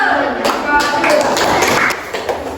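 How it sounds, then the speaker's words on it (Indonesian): Short burst of classroom applause for a student group after their presentation, a dense patter of clapping with voices talking over it, tapering off toward the end. "tepuk tangan untuk kelompok satu"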